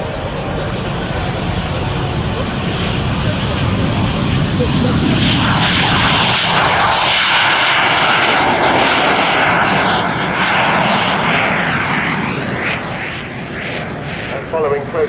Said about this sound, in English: the JP3 starting his takeoff run from the left.